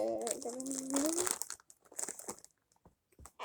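A bag of Doritos crinkles and crackles as it is torn open for a wasabi-spicy eating challenge, with voices talking over the first part and sharp plastic crunches continuing alone afterward.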